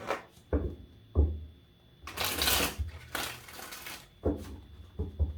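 Several bursts of tarot cards being shuffled, riffling and rustling close by, separated by short pauses.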